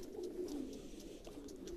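Breeding pigeons cooing softly in a loft, low repeated throaty coos with faint chirps and rustling around them.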